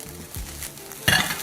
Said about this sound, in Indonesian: Sekarang kita akan goreng dia. Ya kayak nasinya kegoreng gitu.